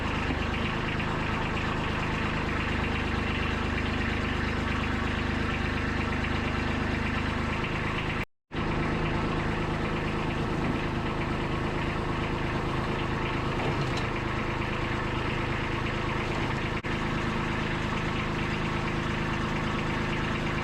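A tractor engine runs steadily while its loader lifts the back end by a chain, a loud continuous mid-range drone with a brief cut partway through, then the same even running.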